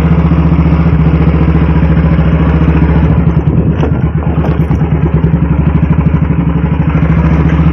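Old-timey Bullet motorcycle engine idling nearby, a loud, steady low thump with rhythmic mechanical clatter, faltering slightly midway then settling back into its beat.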